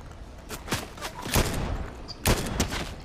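Fortnite gunfire comes in separate bursts of sharp shots, some in quick pairs and clusters, fairly distant and quiet with short gaps between volleys.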